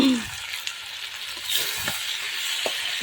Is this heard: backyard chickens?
no